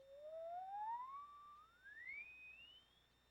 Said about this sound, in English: We'll generate the tone in this oscillator.